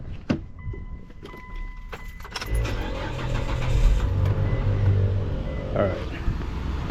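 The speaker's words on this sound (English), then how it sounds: "let me start the engine" A Gen3 Mitsubishi Montero engine cranks and catches, settling into a steady idle close by, preceded by a few clicks and a car door or window sound, with a voice speaking briefly.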